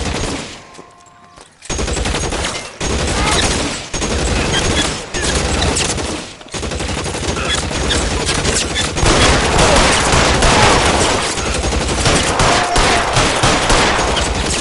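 Dense, loud gunfire during a shootout in L.A. Noire, with sustained bursts of rapid shots running almost unbroken after a brief quiet opening.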